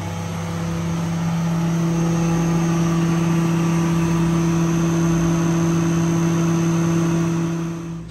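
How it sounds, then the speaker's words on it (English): A rotary screw air compressor driven by a 20 hp three-phase motor running wide open at full load, a steady even hum with a constant tonal drone, fairly loud and unchanging throughout. "So this is the air pump, you know, the rotary screw, and the 20 horsepower three-phase motor back there."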